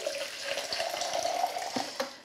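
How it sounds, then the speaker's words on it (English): Hot water poured into a jug in a kitchen while preparing chocolate ganache, a steady close splashing stream running for about two seconds with a brief knock near the end. "I need to put a little bit of hot water in a jug"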